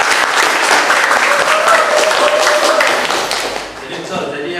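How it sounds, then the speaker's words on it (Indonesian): Classroom of children applauding a classmate with steady, dense clapping that carries on for several seconds before tapering off slightly near the end. "beri aplaus dulu untuk teman kalian"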